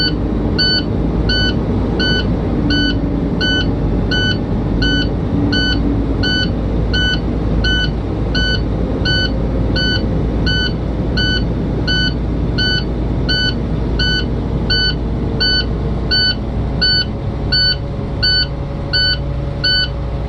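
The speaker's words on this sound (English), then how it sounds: "I'm going to bring my RPMs up until the beeping stops." Idling truck engine with a low steady rumble, under a regular series of high electronic warning beeps repeating throughout inside the cab of a training truck with automatic transmission; the beeping continues across the whole stretch without stopping.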